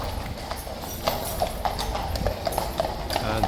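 Horse hooves clip-clop steadily past at a walking pace, close and fairly loud over outdoor background noise, with no talking.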